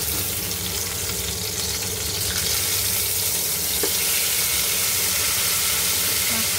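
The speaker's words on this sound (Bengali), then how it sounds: "তো চলো এটা দিয়ে দিচ্ছি, মাছগুলো ভাজতে দিয়ে দিচ্ছি।" Fish frying in hot oil in a home kitchen, a loud, steady sizzle that carries on evenly throughout with no talking.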